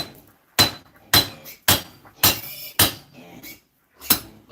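Sharp hammer blows on a construction site, six spaced strikes with brief pauses between them, loud and close with no talking.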